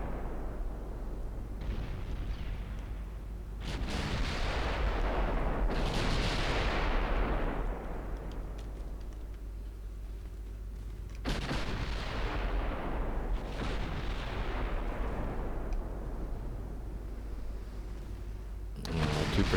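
Deep booming torpedo detonations in Ultimate Admiral Dreadnoughts, several heavy blasts with long rumbling tails over a constant low ocean and engine rumble, with no voices.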